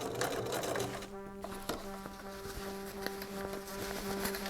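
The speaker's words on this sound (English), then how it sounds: "If the quilters can get an entire quilt rolled up under a machine like this, I can sew this hood." A sewing machine stitches the hood of a rain cape, a close, steady whirring hum with a brief pause partway through before it runs on.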